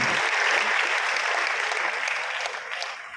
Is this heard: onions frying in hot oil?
no